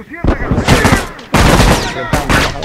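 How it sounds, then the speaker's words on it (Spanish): Bursts of rapid gunfire ring out in a video game shootout during a team tournament match. Three loud, close volleys of rattling shots are separated by short gaps. "tiroteo por todos lados"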